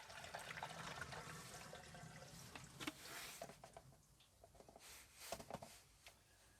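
Water being poured into a motorhome portable toilet, a faint splashing, gurgling stream that runs steadily at first, then breaks into uneven sloshes and trickles.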